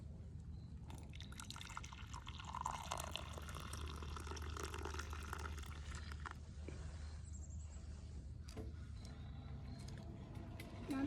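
Hot water pours steadily in a continuous close splashing stream, with faint clinks and small knocks around it.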